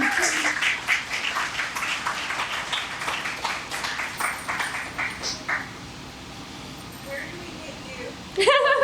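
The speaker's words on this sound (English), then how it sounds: "Can we like give one more round of applause for AJ?" Audience at a Nerd Nite Louisville talk on skin care claps for the speaker AJ, a steady burst of many hands that swells and then fades out, with voices murmuring underneath.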